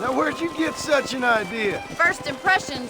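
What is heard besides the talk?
No distinct noise like a dog, phone or traffic.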